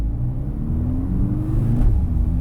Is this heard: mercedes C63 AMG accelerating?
yes